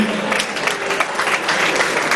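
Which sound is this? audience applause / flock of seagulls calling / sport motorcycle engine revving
audience applause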